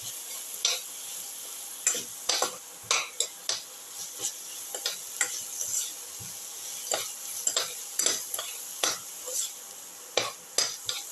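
Garlic sautéing in a pan with salt, for a cumin potato coconut casserole, under a quiet hiss, with frequent rhythmic metal clinks and scrapes from stirring, close and crisp, no voices.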